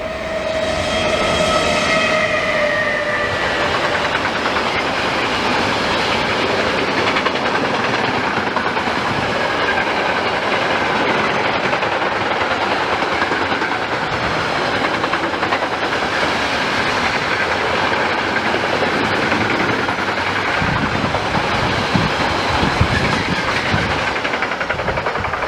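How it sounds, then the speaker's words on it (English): A slow cargo train rolls past close by, its cars rumbling and clanking steadily throughout, with a brief high horn-like tone near the start and no voices. "like this cargo train pulling cars."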